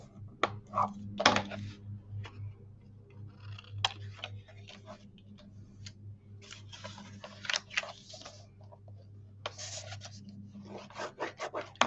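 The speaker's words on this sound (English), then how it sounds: "Take the time and burnish." Chipboard album pieces being burnished by hand, giving intermittent scraping and rubbing strokes of varying length with short pauses between them, close up and fairly quiet, with no speech.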